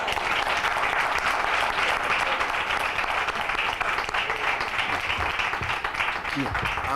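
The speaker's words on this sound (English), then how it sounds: "Let's give her another hand clap." A seated audience at a community talk on medical stabilization gives a presenter a sustained round of hand clapping, even and continuous throughout, with a few faint voices mixed in.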